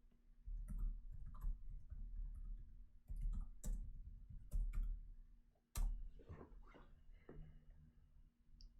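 Soft, close keyboard clicks in quick irregular bursts as a search is typed into Google, with pauses between the runs of keystrokes.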